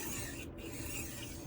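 A HORL 3 Cruise rolling knife sharpener draws across a kitchen knife edge in a steady, close, continuous rasping rub, with a brief drop-off partway through and no voices.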